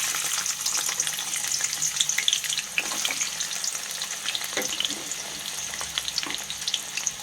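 Carrots fry in a pan for vegetable pulao, a soft, even crackling sizzle with scattered pops and occasional stirring clatter, fairly quiet and with no voices.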